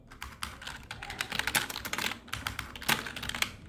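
Code being typed on a computer keyboard: dense, quick, close-up key clicks in uneven bursts, with occasional heavier keystrokes such as the space bar, and no talking.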